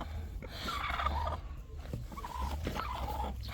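A turkey gobbles in a poultry yard, rough warbling calls rising twice over a low background hum, fairly faint and with no talking.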